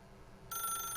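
A telephone in The Stanley Parable starts ringing abruptly halfway through, a bright electronic trill sounding steadily after a low, quiet room hum.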